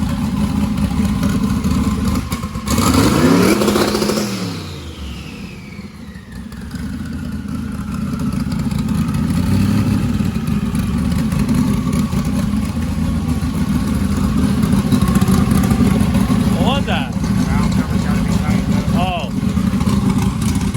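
Turbocharged engine with new 76mm Precision turbos, a loose valve cover and deeper engine issues, revving on a two-step launch limiter; loud sustained engine roar with a sharp rising rev near the start, voices talking over it.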